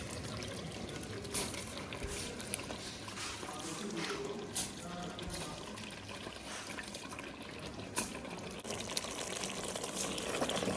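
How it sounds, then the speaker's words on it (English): Water poured into a pot of rural African beef jollof rice with rice and sauce, a close, continuous trickling splash with a few knocks, no talk. "So now we'll go in with a little bit of water."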